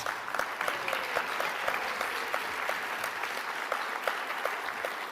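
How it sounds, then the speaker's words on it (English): Sustained applause from the audience at the 2024 Northern Territory Australian of the Year Awards ceremony, a steady wash of many hands clapping with distinct individual claps standing out, moderately loud and continuous throughout. "Please give them all a massive round of applause."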